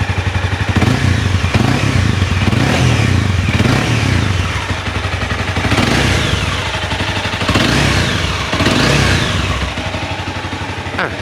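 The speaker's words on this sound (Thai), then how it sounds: "เรามาลองเบิ้ลฟังเสียงท่อรถกันสักนิดหนึ่งนะครับว่าเสียงท่อรถอะไรต่างๆเป็นไงบ้าง" A 2017 Honda CBR300 ABS with its stock exhaust and original engine revs repeatedly in loud, close blips, engine note rising and falling in waves over a steady idle rumble.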